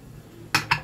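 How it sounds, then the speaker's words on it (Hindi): A pressure cooker lid is set onto a pot of arbi (taro root) in a home kitchen, giving two quick, close metallic clinks in a row after a short quiet moment. "कुकर का ढक्कन इसमें लगा देते हैं और सीटी लगा देते हैं।"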